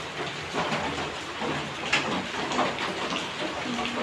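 Steady hiss of sudden heavy afternoon rain pouring down, a dense continuous wash of sound with a few brief sharper taps.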